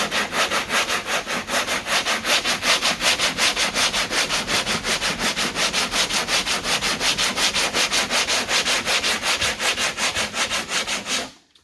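Sandpaper rasps over Bondo filler along a car's body line in fast, even back-and-forth strokes, a loud, close, rhythmic scratching that continues steadily before stopping abruptly.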